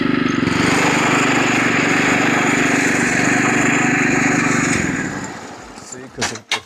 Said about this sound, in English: This is sloped over here, and my mower always dies.